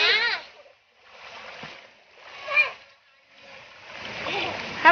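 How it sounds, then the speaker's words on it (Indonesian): A swimmer splashes in a cold river current near its spring source. Intermittent watery splashes and churning come in bursts, mixed with people's voices nearby. "Kita mencoba renang di dalam arus"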